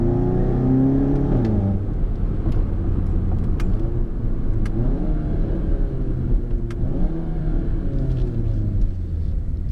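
A VW MK7 GTI with a Cobb Stage 3 tune and catless downpipe accelerates hard, its loud, rasping engine note rising and falling through gear changes with a steady close rumble throughout.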